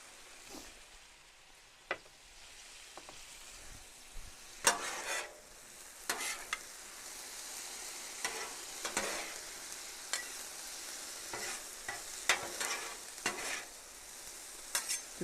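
Sweet and sour sauce with garlic sizzling on a flat griddle while a spatula stirs and scrapes it, soft frying hiss under repeated sharp scraping strokes, no talking.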